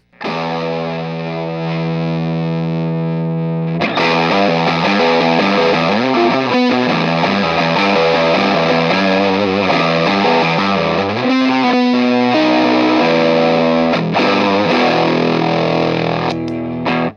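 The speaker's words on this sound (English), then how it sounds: "The Rat is one of my oldest pedals." Loud electric guitar run through a fuzzy ProCo Rat distortion pedal, starting with sustained chords and then moving into busier riffing, thick and woolly in tone.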